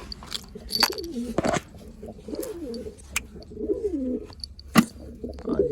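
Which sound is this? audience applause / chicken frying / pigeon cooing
pigeon cooing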